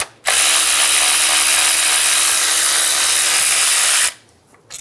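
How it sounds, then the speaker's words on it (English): A power tool with an 8mm socket backs out the ignition coil bolt on a 2000-2007 Ford Focus 2.0L, a loud, steady whirring burst lasting about four seconds before cutting off sharply. "remove the bolt for the ignition coil."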